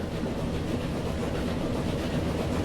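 Steady rumbling of a train rolling along in a railway management video game, a continuous dense low roar with no clear clacks standing out and no talking.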